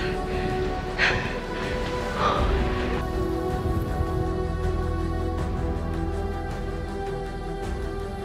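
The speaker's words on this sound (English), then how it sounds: "it's also raining and super windy" Rain patters steadily during a foggy, windy hike on Acatenango volcano, with gusts of wind and a few brief breathy sounds near the start.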